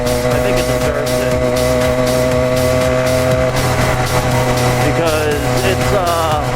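An 80cc Seeutek engine on a motorized cruiser bicycle runs throughout a test ride, a loud, buzzing two-stroke drone with shifting pitch that revs up and wavers toward the end.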